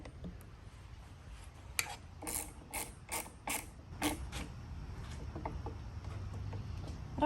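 Small bolts going into an Audi A3 TDI window regulator, heard as a few sharp metallic clicks and creaks through the middle of the clip, close up and fairly faint against a low steady background hum.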